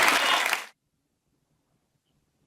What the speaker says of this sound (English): I was applauding along with all of the parishioners there.